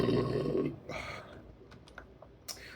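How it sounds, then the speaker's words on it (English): A single deep, throaty burp after drinking C4 and Monster energy drinks, loud and close, followed by faint clicks and light rustling. "I burped."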